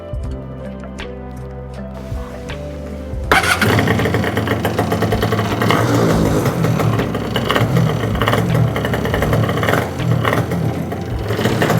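A marketplace jet ski engine, just given a carb cleaning, cranks and rattles briefly before catching at about three seconds, then runs loud and steady at a rough, buzzing idle close by.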